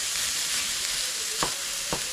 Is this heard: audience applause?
no